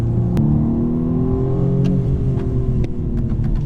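A 2020 BMW M235i Gran Coupe engine revs up during a downshift and holds steady with a smooth mechanical whir, close and loud, with a few brief clicks.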